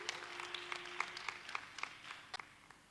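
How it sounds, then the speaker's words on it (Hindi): Applause for a child poet at a Ramotsav children's poetry gathering in Ayodhya, scattered claps from the crowd heard faintly at a distance over a steady tonal hum, uneven and fading. "एक बार जोरदार तालियां जीविका सोनी के लिए"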